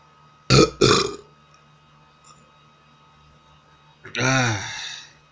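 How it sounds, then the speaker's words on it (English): Two short bursts come first, then after a pause one big, loud, voiced burp rolls out for about a second, close to the microphone. "That's a big burp"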